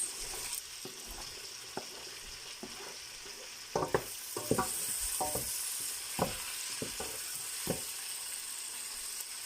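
Carrots dropped into a hot pan sizzle and fry steadily, with a run of sharp stirring clatters and scrapes in the middle and a constant crackling hiss throughout; no talking.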